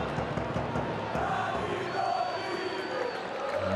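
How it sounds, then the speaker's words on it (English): A football crowd at an RCD Mallorca versus CD Lugo match chanting a player's name before a penalty, a dense, distant roar of massed voices filling the stadium steadily. "The crowd chanting Dani Rodriguez's name,"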